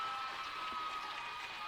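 Basketball crowd at a boys' high school district final cheering and applauding after a free throw, a steady dense wash of clapping and voices with no pauses.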